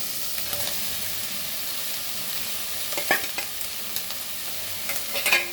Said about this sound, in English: I will add an onion to this.